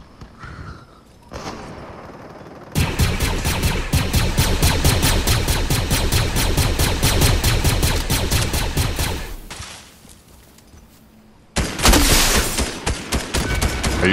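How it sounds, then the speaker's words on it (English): Rapid automatic gunfire in the Fortnite video game, a long sustained burst of evenly spaced shots after a quieter start, then a pause and another loud volley near the end. "I'm being shot at again."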